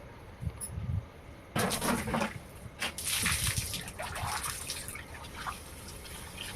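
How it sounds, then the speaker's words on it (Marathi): Water splashes and spatters across an outdoor yard on a still morning, with an abrupt burst followed by irregular sloshing and dripping, close and moderately loud. "मग पाणी मारायला घेतलं"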